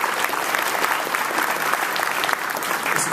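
A school assembly audience applauds freshmen, producing a dense, even wash of clapping from a large crowd that holds steady for about three seconds with no speech on top.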